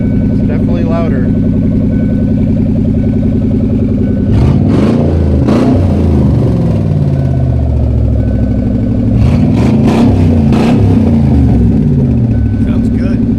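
A Lincoln drift car with a welded differential revs its engine twice through a loud exhaust, each burst rising and falling over a steady idle rumble.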